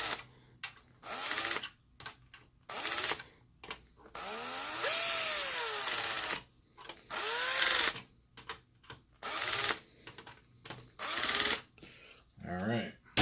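Power drill in slow low gear driving screws into a Mitsubishi XD700U-G projector, several short whirring bursts with pauses between, one longer run rising and falling in pitch, close and fairly loud.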